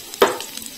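Chopped garlic lands in hot oil in a wok with a sudden loud hiss that quickly settles into a quieter, steady sizzle.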